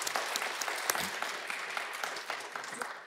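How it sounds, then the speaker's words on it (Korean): A church congregation applauds the orchestra members and choir in a steady wash of clapping from a crowd that fades slightly toward the end, with no talk over it. "우리 격려와 감사의 박수 한번 드리겠습니다."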